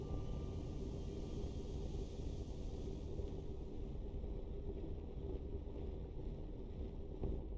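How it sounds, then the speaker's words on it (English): A sugar-engine rocket launches in the colony game Oxygen Not Included, giving a steady low roaring rumble that holds for several seconds at moderate level, with no voices. "And the inaugural launch of the sugar engine."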